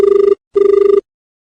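A telephone bell rings in two short bursts with a brief pause between, loud and close, trilling rapidly, as a call comes into a radio phone-in program.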